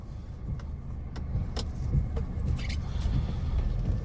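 A 2015 Buick Encore with a 1.4-liter turbo engine hums at a low steady drone during a test drive, road rumble filling the cabin with faint clicks and rattles over it and no talking.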